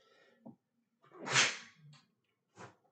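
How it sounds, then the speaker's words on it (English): A single sharp allergy sneeze bursts out close up, preceded by a short breathy intake and followed by a couple of faint sniffs or small sounds. "About to sneeze."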